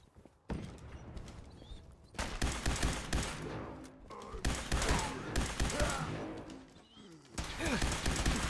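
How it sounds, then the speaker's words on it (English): Laser guns firing in a video game, dense rapid bursts of zapping shots in several long stretches separated by brief pauses, loud and close, with a voice speaking intermittently underneath. "Let's shoot some lasers."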